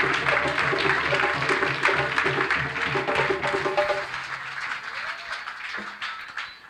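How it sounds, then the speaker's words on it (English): An audience at a Brixton poetry remembrance event applauds after a poem, dense sustained clapping that gradually thins and fades, with voices mixed in. "Give him another round of applause."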